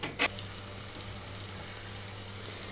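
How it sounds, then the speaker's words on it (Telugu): Green chilli masala paste frying in oil for a potato fry gives a soft, steady, even sizzle, faint and close, with one brief clatter at the start. "ఒక 2 నిమిషాల పాటు వేయించుకుంటున్నాను ఇక్కడ"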